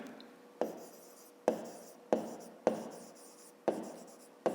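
Pen on paper writing a math answer, five or six distinct strokes, each a sharp scratch that fades out, spaced evenly and close, with no talk.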